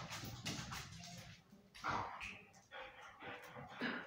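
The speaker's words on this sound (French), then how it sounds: "si vous entendez du bruit, c'est ma chienne" Faint dog barks and yips come in several short bursts, distant and quiet, with some background noise between them.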